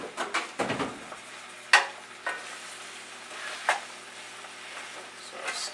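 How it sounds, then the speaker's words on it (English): Sliced vegetables for lasagna stirred in a large saucepan, with soft scraping and clinking of a utensil against the pan, a few sharper knocks over a faint background sizzle. "So stir them around, make sure they all get covered as best as possible."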